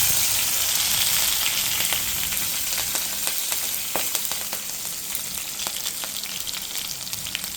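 Curry leaves and finely chopped kanthari chilies hit hot oil with mustard seeds in a pan, giving a steady, close, loud sizzle and crackle with scattered sharp pops throughout.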